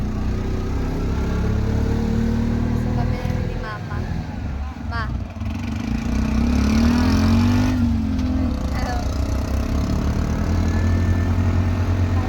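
A car engine runs steadily as a family rides along, a continuous low rumble with brief surges and a smoother stretch midway, heard under close conversation.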